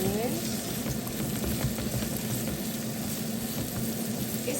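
Garlic and onions stir-frying in a pan, a steady dense sizzle with faint scraping of stirring throughout, close and continuous with no talk over it.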